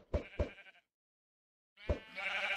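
Minecraft sheep bleat twice in quick succession, then after a pause a third bleat rises into a sustained noisy wash of game sound.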